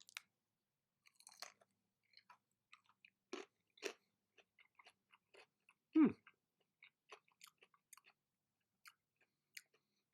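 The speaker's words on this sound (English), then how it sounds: "Crunchy nugget" Quiet, close crunching and chewing of a crunchy chicken nugget, scattered bites and crackles with one louder crunch midway, no talking.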